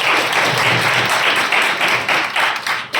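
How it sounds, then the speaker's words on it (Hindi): Crowd applause welcoming NCC cadets at a public gathering, a dense, steady wash of many hands clapping that carries on for the full span without pause. "हमारे एनसीसी कैडेट्स के लिए एक बार तालियों से स्वागत कीजिए।"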